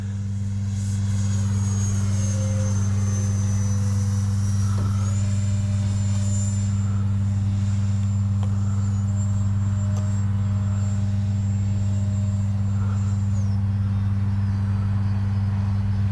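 Freewing 64mm Banshee RC sport jet on a 4S battery flying overhead, a steady high-pitched electric ducted fan whine that shifts pitch as it passes, over a loud constant low hum.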